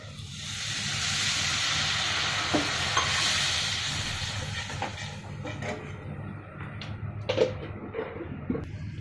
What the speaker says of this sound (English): Water started boiling